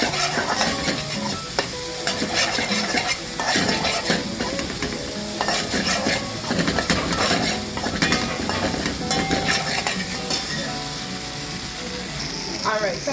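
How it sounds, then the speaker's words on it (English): Diced onions hit hot oil in a curry pot for curried goat, giving a loud, steady sizzle throughout, layered with scraping and clattering stirring sounds up close. "I'm going to add some onions that I would have diced up earlier on."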